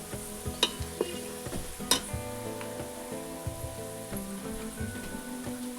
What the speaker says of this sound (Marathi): सारखं आपल्याला कांदा हलवत राहायचंय बर का तेलामध्ये